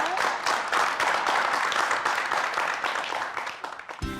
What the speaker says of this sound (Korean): 오늘 재미난 강의를 해주신 우리 조선우 교수님께 여러분 큰 박수 부탁드릴까요?